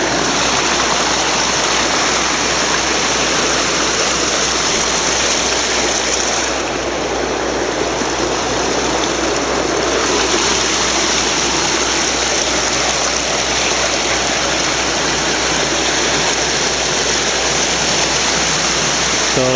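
Loud, continuous rushing of the Weiser River pouring past a diversion dam, a dense steady roar with no pauses and no voices.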